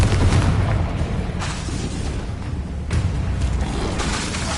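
A Confringo explosive spell blast from the video game Hogwarts Legacy lands as a heavy booming burst, followed by a second blast a moment later, loud and close with a rumbling tail.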